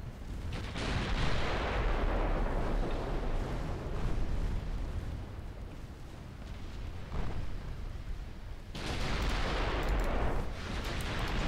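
Three-inch naval guns fire in a Spanish dreadnought naval warfare game, a steady stream of booming shots rolling into one another, loud and near, with a fresh burst of blasts near the end and no talk.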